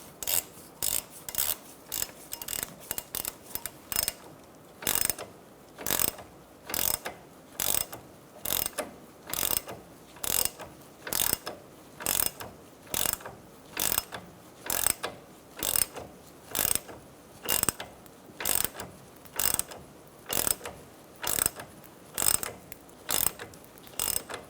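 Strut spreader tool being cranked to open the steering knuckle on a 2004-2009 Mazda 3, a long series of sharp ratcheting clicks in quick bursts, repeating rhythmically and close up, with no talking.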